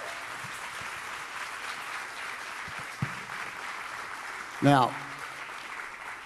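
A congregation claps together during a church teaching on the kingdom of God, a steady wash of hand claps running the whole stretch beneath a speaking voice, with a couple of sharper knocks near the end.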